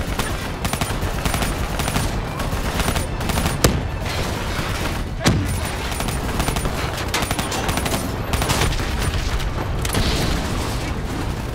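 Sustained gunfire aimed at a VTOL in Call of Duty: Black Ops 3, dense rapid bursts mixed with heavy booms and explosions, loud and continuous throughout.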